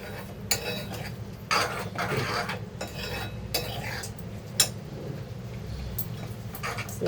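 Prawn and chilli mixture being stirred in a pan, with soft scraping and clinking of a spoon against metal, repeated in uneven strokes over a low steady background.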